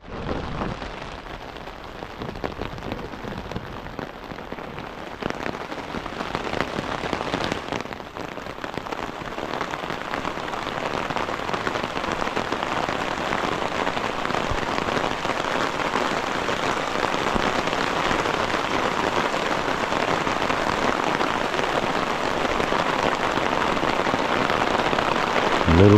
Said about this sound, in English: A little bit rainy.